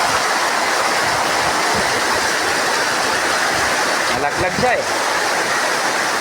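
Rushing floodwater during an afternoon rain in Kidapawan, a steady loud broadband roar of water filling the whole clip, with people talking over it and a brief splashing disturbance near the end.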